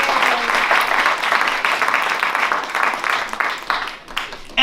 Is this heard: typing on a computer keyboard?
no